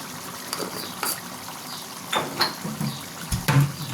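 Water is poured into a pan of chicken keema with ground garam masala, giving soft intermittent splashes mixed with a few light metallic clinks, close by.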